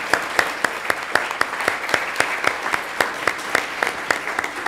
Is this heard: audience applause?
yes